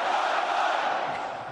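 A crowd at a Darwin gathering shouts the Australian cheer in one sustained roar of many voices, loud and dense, without a break.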